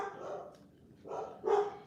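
A dog gives a few muffled, fairly distant barks, two or three short woofs over low background noise.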